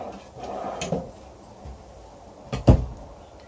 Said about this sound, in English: Nice pull-out drawers, that's a nice touch.